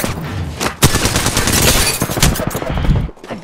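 Dense, continuous video game gunfire, rapid automatic shots and overlapping bursts from a team firefight, loud and close throughout with a brief lull near the end.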